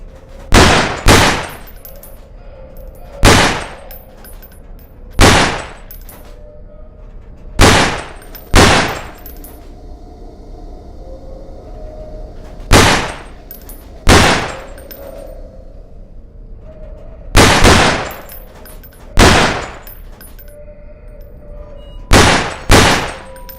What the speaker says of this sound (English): Now stay between the lines and shoot the targets from there.